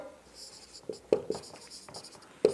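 Chalk or marker writes on a board during a maths lesson, with scratchy strokes and a few sharp taps, close and fairly quiet.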